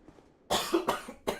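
A man coughs three times in quick succession close to the microphone, sharp bursts after a near-silent moment, with a brief vocal catch between the first two.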